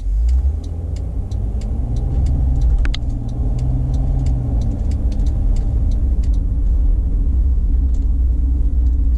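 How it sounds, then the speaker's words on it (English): A Mercedes car on a test drive after a DPF fault repair fills the cabin with steady, loud low-pitched road rumble and engine drone, plus a faint rhythmic ticking throughout. "let's take the vehicle now for a bit of a test drive"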